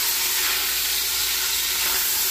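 Vegetables sautéing in a pot as the base for beef stew, a steady bright sizzle and hiss that holds evenly for a couple of seconds with no voices.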